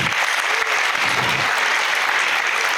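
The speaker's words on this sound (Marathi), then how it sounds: "या सर्व टीमसाठी जोरदार टाळ्या" A school audience gives loud, dense applause for a teachers' team at E-nexus Chanakya School, Latur, with continuous close clapping from start to finish and a faint crowd murmur beneath.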